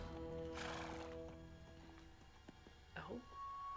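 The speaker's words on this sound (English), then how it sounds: "Look at him riding the horse." A horse in a vampire horror film neighs loudly and shrilly, with clip-clopping hooves beneath, set against a sustained musical score and fairly quiet overall.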